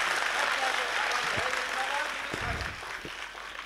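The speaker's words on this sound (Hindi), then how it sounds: "इसलिए एक बार मेरे लिए भी, मेरे उत्साह बढ़ाने के लिए तालियां दीजिए" Audience at a mushaira clapping for the poet, a dense burst of applause that holds steady and then thins slightly toward the end, with faint low voice sounds underneath.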